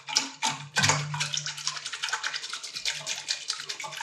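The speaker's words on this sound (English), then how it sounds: "I like to give it a little whisk so it's fully immersed." A whisk stirs yeast into water in a bowl for homemade pizza dough, giving rapid, rhythmic splashing and scraping strokes that run continuously and close up.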